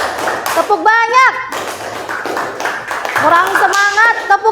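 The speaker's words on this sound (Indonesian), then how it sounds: "Tepuk satu, tepuk tiga, tepuk banyak" Children clapping their hands in a classroom clapping game, sharp claps in bursts between sung and spoken voices of a teacher and kids, close and lively.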